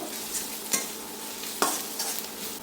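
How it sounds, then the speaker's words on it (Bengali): Cumin paste is stirred into onions in a hot frying pan, with a continuous close sizzle broken by a few distinct scraping stir strokes, and no voices. "জিরা বাটাটা পেঁয়াজের সাথে মিশিয়ে নিব"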